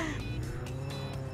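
Car engine and tire noise in the Roblox Jailbreak video game, a steady loud game vehicle drone with brief harsh bursts as a police car drives into it.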